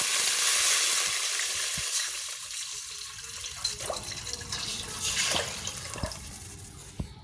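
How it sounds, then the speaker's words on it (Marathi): Water pours into a pot of whole spices (bay leaves, black cardamom, cloves, peppercorns) roasting in ghee for mutton dalcha rice, giving a loud hissing sizzle that settles into bubbling and occasional pops. "आता मी पाणी घालते।"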